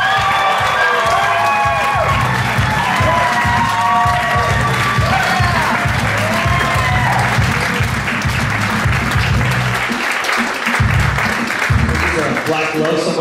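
A large comedy club audience welcomes comedian Jeff Allen with sustained, loud applause, cheers and whoops that fill the room for over ten seconds. An announcer's amplified voice carries over the crowd.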